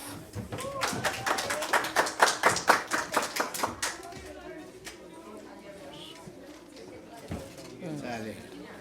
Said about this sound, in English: Please clap for Saleha Altaf.